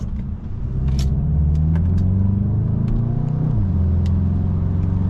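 A 2025 Volkswagen Golf GTI without the titanium exhaust, driving, with a loud steady engine and exhaust drone that rises through the gears, then drops as it shifts, with faint clicks and rattles from the cabin.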